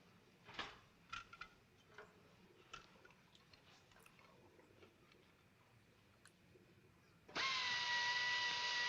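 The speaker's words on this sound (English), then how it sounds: "This sounds like a drill." After scattered faint clicks and knocks, an electric drill suddenly starts up and whines loudly and steadily at a constant high pitch.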